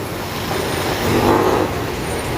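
Heavy, jammed road traffic on a busy street in the Philippines: a dense, continuous rumble of engines close by that swells briefly as a vehicle moves past, with no voices.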